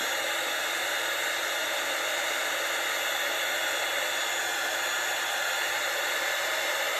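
Heat tool blowing steadily as it warms up for ink and stamp crafting, a constant close whooshing airflow with an even whine, no talking.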